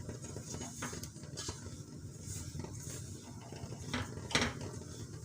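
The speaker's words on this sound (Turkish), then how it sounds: "Kavurmaya devam ediyorum." Semolina roasting in a pan for halva, stirred steadily with a spoon: a low sizzling hiss runs throughout, broken by faint scrapes and an occasional clink against the pan.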